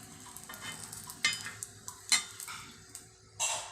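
Sweet poli flatbread cooks in oil on a pan, giving a soft sizzle with occasional scraping and clinking from a spatula, close and fairly quiet.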